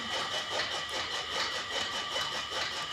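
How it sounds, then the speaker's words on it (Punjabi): A motor-driven chaff cutter (toka) runs steadily in a village cattle yard, a continuous mid-pitched mechanical whir with a faint rhythmic pulsing, fairly close and with no talking over it. "ਅਸੀਂ ਮੋਟਰ ਵਾਲਾ ਟੋਕਾ ਹੀ ਚਲਾ ਲਿਆ"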